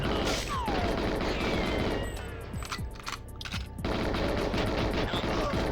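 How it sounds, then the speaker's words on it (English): GoldenEye 007 shooting game gunfire: loud bursts of rapid automatic fire with a short lull in the middle, then the firing resumes densely, and a few sharper single shots break through. "this is all this shooting I've been doing"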